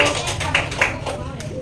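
Classroom applause for a student group after their presentation, a short burst of scattered hand claps with a few sharper slaps, moderately loud and close, over a murmur of voices.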